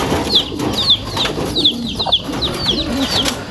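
A returned racing pigeon in a training box gives a series of soft, repeated chirps and coos at close range, over a steady low background hum, with no talking.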